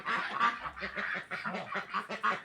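Ducks out by the water in the evening, a run of nasal quacks and honks repeating in quick irregular bursts at moderate distance, with no talk over them.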